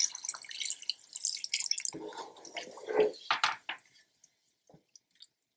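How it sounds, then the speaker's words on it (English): Water poured into a pot of simmering chicken korma curry, with splashy, liquid sounds that build over several seconds and then give way to a few faint, sparse drips near the end. "I'm going to add about 1 more cup of water or half a cup of water."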